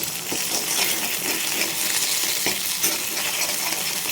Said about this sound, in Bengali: প্রথমে ডিমটা ভেজে নিচ্ছি